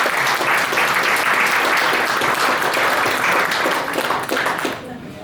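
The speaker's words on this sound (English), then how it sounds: "I would like to give a nice round of applause for all the years that he has served the Gray Eagles" Luncheon guests of the Gray Eagles applaud a longtime member, a loud, dense burst of clapping that carries on steadily before tapering off abruptly near the end, with some talk underneath.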